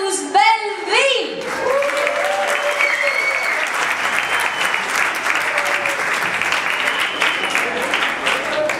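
Warm audience applause greets a band taking the stage at a live gin-joint show, steady and loud clapping filling the room for several seconds after a brief spoken introduction.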